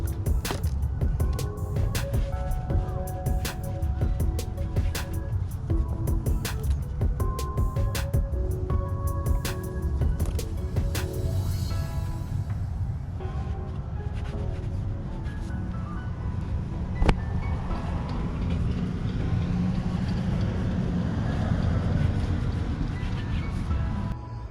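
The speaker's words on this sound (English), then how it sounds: "Just give it a quick rinse here." Water spraying steadily over a BMW M2 Competition during a quick rinse, a continuous hiss that runs alone at moderate level, with the spray changing character partway through.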